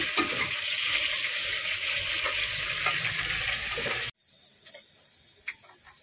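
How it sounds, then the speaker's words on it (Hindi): Green chillies fry in a pan for tomato curry, a loud continuous sizzle for about four seconds that then cuts abruptly to a much quieter crackle with faint clinks. "थोड़ा ड्राई होने के बाद मिर्ची डालेंगे इसमें"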